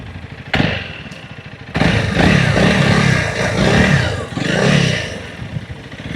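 A Honda CRF 300L Rally motorcycle engine running nearby, loud and rough, rising into sustained revs with a dip midway and another surge, with some mechanical clatter and no talk.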